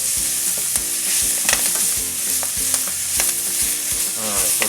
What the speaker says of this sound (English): while they're sauteing, try to keep them moving